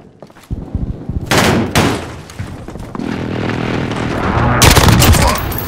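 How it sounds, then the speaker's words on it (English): A precision airstrike in Call of Duty: Modern Warfare hits with loud, dense bursts of gunfire and booming blasts, building from short cracks into sustained heavy firing and a final big explosion. "friendly precision airstrike inbound"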